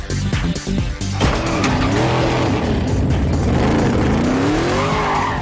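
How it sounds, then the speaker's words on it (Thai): A 1969 Dodge Charger engine revs loudly and close, its pitch sweeping up and down, mixed with tire squeal and skidding after a choppy start. "ครับผมเป็นยี่ห้อ Dodge ครับรุ่น Charger ปี1969ครับผม"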